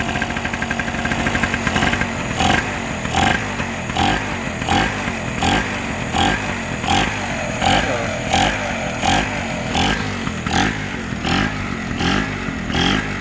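An 800 W power generator with a Honda engine runs roughly on a rich fuel mixture, a loud, close, steady mid-pitched engine drone with a regular pulsing beat throughout and no talking.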